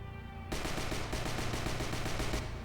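Automatic weapon fire in a VR video game bursts in suddenly after a quiet half-second, a rapid, evenly spaced stream of loud shots that runs for about two seconds before stopping.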